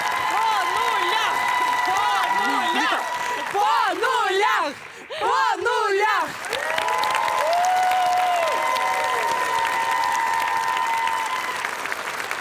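Studio audience applause on a television talk show, clapping running under loud talk and music, with a presenter speaking over it.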